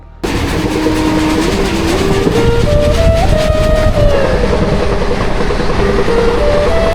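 A train at Tirupati railway station rumbles loudly and steadily throughout, with a rising horn-like tonal whine and continuous rail clatter close by.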